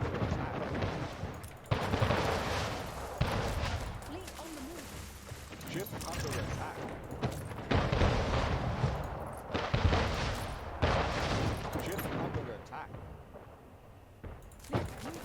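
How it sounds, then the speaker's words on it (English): Mortar fire in Anno 1800, a repeated series of booming shots at irregular intervals over a dense battle din, with cheerful game music and someone talking intermittently. "If we could fire those mortars again, we might be all right."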